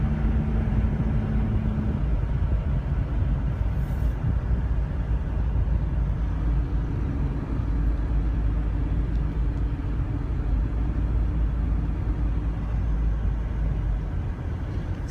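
GMC Suburban diesel engine idling steadily, a low, even rumble held at moderate level with no talk over it.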